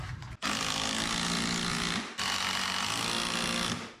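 Power driver running 3-inch decking screws into 2x4 boards, two long loud sustained bursts separated by a brief pause, close and without talk.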